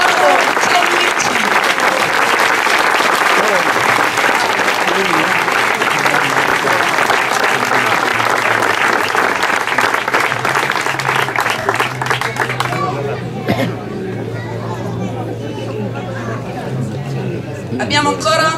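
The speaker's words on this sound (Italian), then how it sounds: "mandiamo un applauso fino a su" Sustained applause from a crowd at an awards ceremony for a hill climb race in Tiriolo, Calabria, steady and loud for about twelve seconds before thinning out, with chatter mixed in.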